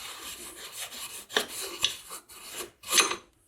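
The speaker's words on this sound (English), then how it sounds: "you can come to the other side and pull it the rest of the way out" A rear axle bolt slides out of the swing arm on a Yamaha Warrior 1700 motorcycle, giving close, scraping metal-on-metal rasps with a few sharper clinks at irregular intervals.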